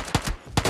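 Gunfire in the video game PUBG on the Livik map comes as two short, punchy bursts of shots separated by a brief lull.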